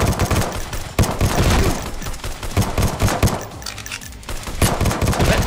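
Fireworks crackle and burst in rapid volleys through a VR arcade shooter set in a futuristic world, dense popping bursts with a brief lull before resuming, loud and close.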